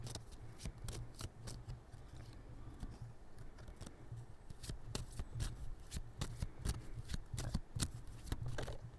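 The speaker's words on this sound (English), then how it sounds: "I'm going to keep shuffling." A tarot deck is shuffled by hand, quiet and close, giving a rapid, irregular run of crisp card riffles and slaps throughout with no voice.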